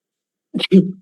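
A single sharp sneeze from someone at a council meeting, a short two-part burst of breath and voice, heard close and alone in an otherwise quiet room.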